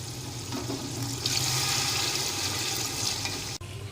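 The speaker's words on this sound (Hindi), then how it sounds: "अब इसमें 10 प्याले पानी के जाएंगे।" Water is poured in a steady, hissing rush into a cooking pot, ten cups for a mixed vegetable rice pulao. It runs close and continuously for several seconds, then stops abruptly.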